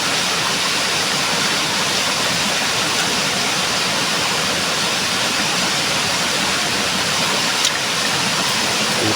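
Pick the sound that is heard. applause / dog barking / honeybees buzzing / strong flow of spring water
strong flow of spring water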